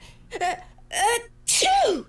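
A woman's sneeze from dust in a Nancy Drew video game, delivered as a three-part sequence: two quick breathy intakes, then a louder, sharper final sneeze, close and clear with no other sound.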